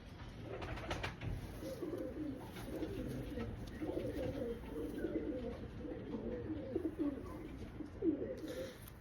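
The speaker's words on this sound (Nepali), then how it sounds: "परेवाहरू धेरै।" Pigeons coo in repeated soft, rolling phrases close by for several seconds, with a low background hum and faint chirps.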